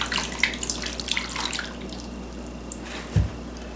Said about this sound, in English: I'm just gonna pour it over the meat.